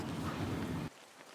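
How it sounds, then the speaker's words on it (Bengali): Steady, dense rain pours down in a cartoon scene, a loud continuous wash that cuts off abruptly partway through. "খুব ভালো হলো বৃষ্টিটা"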